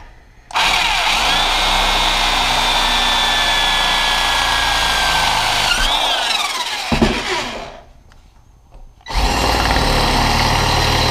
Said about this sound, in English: So let's drill this one.